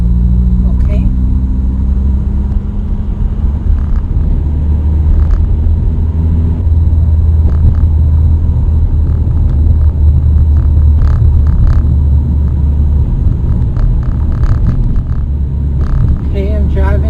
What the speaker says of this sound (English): I'm going to clutch in. I'm going to rev it up, clutch out.